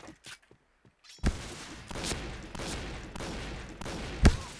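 Gunfire in the video game Point Blank crackles in quick bursts with sharp shots standing out, after a quieter start with a few scattered clicks.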